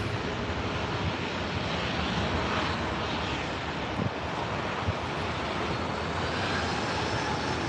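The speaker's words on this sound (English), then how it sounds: "Is this the A380? Is this the Emirates coming in from Dubai?" Steady, loud roar of an Emirates Airbus A380 airliner landing at LAX, with broad engine rumble and wind-like rush filling the whole stretch without a break.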